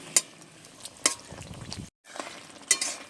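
Bhola fish curry with potatoes in mustard-cumin paste stirred in a pan, with three sharp spoon clinks against the metal over a soft, low simmer and a brief silent gap.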